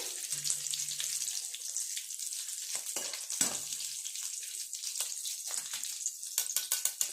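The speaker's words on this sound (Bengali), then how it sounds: "এইগুলো এইরকমভাবে উল্টে পাল্টে ভেজে নেব।" Egg devil (egg chops) fry in hot oil, turned over on moderate heat, with a steady close sizzle and crackle throughout that grows into sharper pops near the end.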